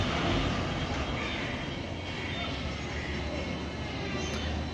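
A company bus engine runs after engine work on its first trip, a steady, loud, broadband drone with no break throughout.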